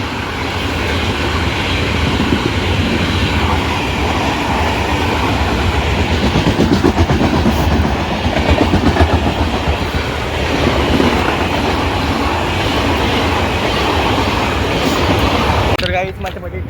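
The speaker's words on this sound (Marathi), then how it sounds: "गाईज बघा ट्रेन आलेली आहे बघा." A train rolls past close by, a continuous loud rumble with rhythmic clickety-clack of wheels on rails lasting throughout before it fades at the end.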